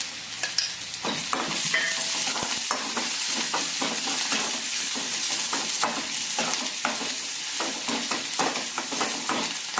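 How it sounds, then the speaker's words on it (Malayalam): Chicken sizzles loudly in oil in a pan, a dense continuous frying hiss punctuated by repeated scraping and clinking strokes of a spoon stirring the pieces. "നമുക്ക് ആ ചിക്കൻ വറുക്കണം ഒന്ന് ഇളക്കി കൊടുക്കാം."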